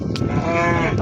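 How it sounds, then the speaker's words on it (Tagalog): Cows mooing in the Minecraft video game, a loud, close, drawn-out low moo filling the short moment, with no speech over it. "Ito yung mga baka oh."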